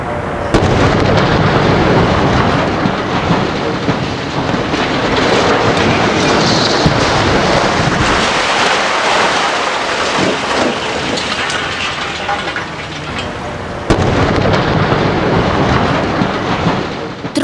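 A long, loud rumbling roar of a demolition blast and a collapsing 56-metre factory chimney, broadband and sustained for many seconds with no talking.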